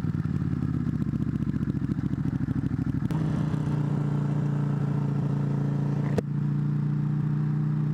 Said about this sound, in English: How this exhaust is going to sound on my taping of this